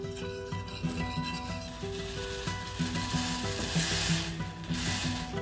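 A balsamic vinegar sauce heats toward the boil in a pan, giving a close, steady sizzle with rubbing, stirring scrapes over a faint tonal hum, no voices.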